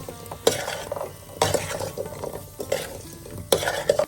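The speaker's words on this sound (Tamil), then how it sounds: "நம்ம மசாலா அரைச்சி வச்சுருக்க மசாலா பொடியை போட்டு நல்லா வதக்கி எடுத்து" Chicken sautés with ground masala in a pan for a spicy chicken pickle: a constant sizzle broken by four sharp scraping stirs of a spatula against the pan, close and loud.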